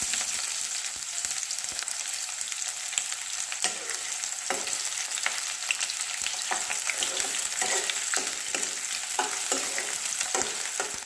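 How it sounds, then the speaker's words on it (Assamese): Onions frying in mustard oil with a bay leaf for a local chicken curry, a steady close sizzle with frequent sharp crackles and spatula scrapes throughout, no voices. "পিঁয়াজখিনি মই সোণালী ৰং এটা অহালৈকে ভাজি ল'ম ভালদৰে।"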